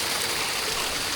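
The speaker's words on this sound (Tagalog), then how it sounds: "Ang agos." A river current flows steadily with a broad, close, rushing wash of water and no voices, heard outdoors where people are swimming.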